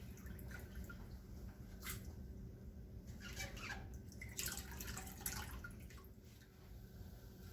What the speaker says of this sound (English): our next step is to rinse these wild cherries really good